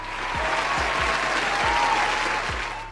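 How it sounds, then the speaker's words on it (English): Dense, steady crowd applause used as a sound effect rings out loudly for about three seconds, with a few soft low thumps beneath the continuous clapping and no speech. "Give them a round of applause."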